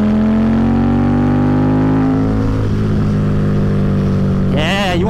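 A custom Harley-Davidson V-Rod's engine drones at high revs in traffic, the pitch slowly rising then falling off, with a brief wavering burst near the end; steady and loud close up.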